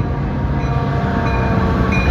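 A BNSF freight train pulling into a station platform on a mild afternoon, giving a steady loud rumble with wheel-on-rail noise that fills the scene throughout.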